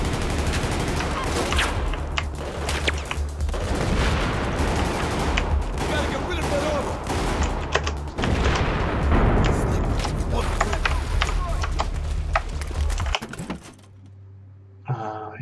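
Grenade explosions and relentless gunfire in the video game Battlefield pound for many seconds in a dense, loud clatter of shots and blasts, then cut to near silence.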